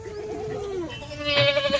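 Kathiawadi goats bleat close by, one long wavering call followed by another higher bleat, with no talk over them.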